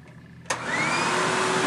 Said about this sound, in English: I'm gonna turn on this Hoover wind tunnel